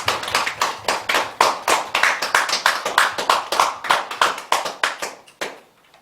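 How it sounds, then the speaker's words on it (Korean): A congregation claps together in a rhythmic, even beat during a Korean church's founding anniversary Sunday service, roughly twenty sharp claps in a row, close and loud, stopping abruptly near the end. "우리 하나님께 우리 영광의 박수, 감사의 박수"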